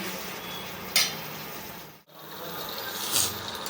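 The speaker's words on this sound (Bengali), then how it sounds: "মাংস কষানো হোক, তারপর কন্টিনিউ করছি" Chicken pieces with whole garlic cloves sauté in a pan for a spicy red curry, giving a steady close sizzle with occasional louder scraping stirs and a brief dip in the middle.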